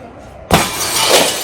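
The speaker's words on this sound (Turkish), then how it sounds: "Lan dur dur camı niye kırıyorsun?" A glass window shatters with a sudden loud crash after a moment of low background noise, followed by a sustained spray of breaking and tinkling shards inside a house.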